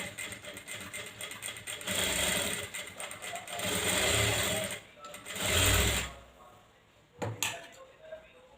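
A sewing machine stitches lace onto a blouse sleeve, running in several bursts of steady mechanical whirring that stop and start, with a voice talking over parts of it.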